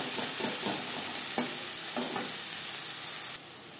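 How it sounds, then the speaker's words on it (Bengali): Salt stirred into onion, tomato and spices frying in a pan for a Bengali potato and hilsa fish curry: close, constant sizzling hiss with several scraping stirs of a spoon, ending in a quieter, steadier sizzle. "পেঁয়াজ টমেটোর সাথে ও মশলার সাথে লবণ বেশ ভালো করে মিক্স করে দেবো।"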